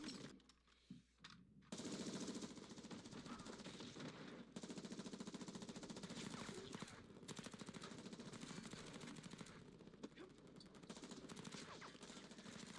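Sustained machine-gun fire from a staged gang fight scene rattles in dense, continuous bursts for most of the span, after a brief quieter opening.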